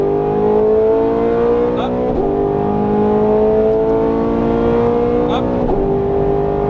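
A Ferrari 430 Scuderia accelerates hard on a race track, its engine note climbing loudly through the gears with quick shift breaks, heard from inside the car while an instructor speaks over it.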